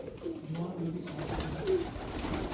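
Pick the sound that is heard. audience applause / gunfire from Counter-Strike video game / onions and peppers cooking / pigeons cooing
pigeons cooing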